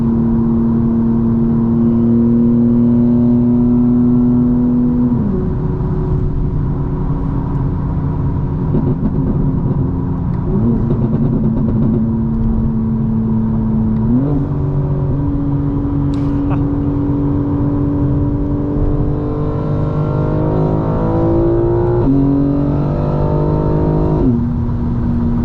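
A 900 hp 2025 BMW M4 Competition pulls hard while driving, its engine drone climbing steadily through the gears with several shifts, loud and continuous from inside the cabin.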